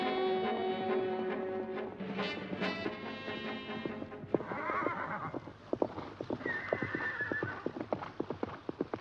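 Horses neigh loudly and shrilly at the start, then their hooves clip-clop in a quick galloping rhythm close by, alone without talk.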